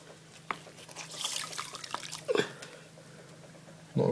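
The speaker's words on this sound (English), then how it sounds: "you've still got water coming out" Water draining from the service flap of a Bosch washing machine, a soft intermittent trickle and drip with a few sharp clicks and splashes, close and fairly quiet.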